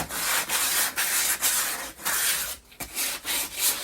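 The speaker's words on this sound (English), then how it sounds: "Then we'll take a piece of sandpaper and clean up that edge." Sandpaper rubs along the edge of a frame in steady back-and-forth strokes, a loud, close rasping with short pauses between passes.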